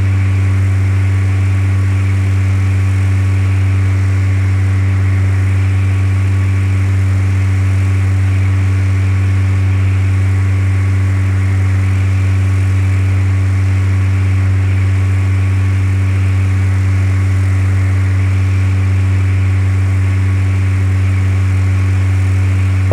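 Steady single-engine light aircraft drone from a flight simulator game, a constant low hum with strong tonal bands, running evenly and loud throughout with no talk.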